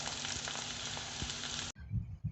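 A spiced paste for tamarind rice sautés in a pan with a loud, continuous oily sizzle, then it drops suddenly to a much quieter, low frying sound with a few soft stirring knocks.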